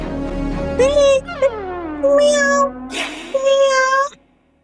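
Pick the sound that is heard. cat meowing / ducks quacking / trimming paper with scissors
cat meowing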